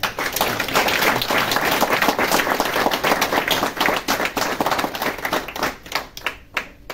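Audience applause after an ambassador's speech at a gathering of Beninese people in France, a dense sustained wash of many hands clapping for several seconds before thinning out toward the end.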